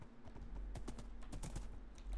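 Rapid clip-clop of horse hooves trotting in Minecraft, a quick irregular series of clacks over a low steady hum.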